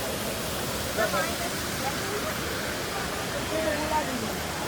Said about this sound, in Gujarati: રસ્તામાં એક જગ્યાએ ઝરણું, તાજું પાણી પર્વતોમાંથી આવી રહ્યું છે ને એનું ઝરણું છે